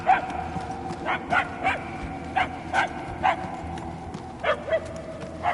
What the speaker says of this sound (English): We are no closer to the source of the barking.